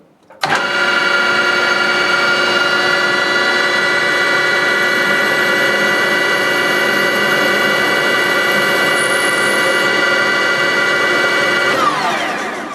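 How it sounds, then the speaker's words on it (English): A lathe motor runs steadily at a constant pitch for a long stretch, loud and close, as a center drill advances into the workpiece, with a faint rising squeal partway through before spinning down. "I'm going to go ahead and turn this on and advance the center drill into the workpiece"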